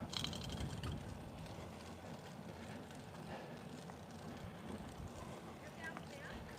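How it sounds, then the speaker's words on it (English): Gusty wind on an outdoor pickleball court buffets the microphone with a constant low rumbling roar, steady throughout with no clear pauses. "it's windy out here right now"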